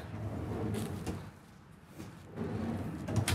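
A couple of low rumbling slides and thuds as large storage drawers in a 2022 Logan Coach Select 810 horse trailer roll open and shut, ending in a sharp knock.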